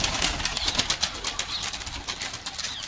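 Pigeons released to fly off, with a rapid rhythmic flutter of wingbeats close by and faint bird coos, and no talking.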